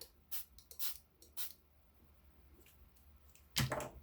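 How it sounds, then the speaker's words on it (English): Several quiet, short hissing spritzes from a spray bottle of water onto watercolor paint, spaced apart, then one louder spray near the end. "take your water bottle and you're going to spray in each to activate"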